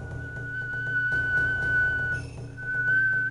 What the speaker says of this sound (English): I can whistle inward and outwards